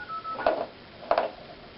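A phone sounds two short bursts of dialing tones, about half a second apart, close and clear in a quiet room after a faint steady tone.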